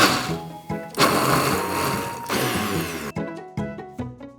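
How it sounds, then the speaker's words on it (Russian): A kitchen blender purees cooked pumpkin, running in loud whirring bursts that stop and restart, close and dominant. "И тыкву тоже можно передавать блендеру."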